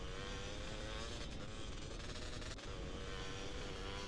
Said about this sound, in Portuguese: tem um motor de caldo de cana essa moto?